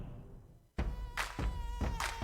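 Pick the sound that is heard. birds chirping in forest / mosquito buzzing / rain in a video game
mosquito buzzing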